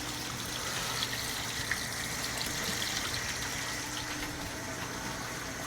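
Water pouring back into a home aquarium, a steady rushing gush with a low pump-like hum underneath, continuous and fairly quiet, with a couple of faint clicks.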